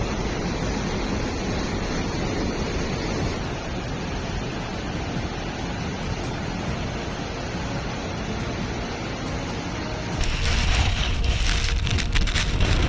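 Roaring flood water during a super typhoon in Hong Kong makes a continuous broadband rush, loud and unbroken, and swells into a harsher, heavier surge for the last few seconds.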